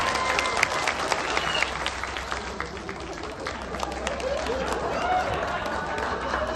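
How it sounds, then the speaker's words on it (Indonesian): An audience at a farewell party applauds a stand-up comedian after his roast set, a loud, dense, sustained wash of clapping with crowd voices mixed in. "Boleh sekali lagi tepuk tangan yang meriah untuk Kakak Luken Ardian"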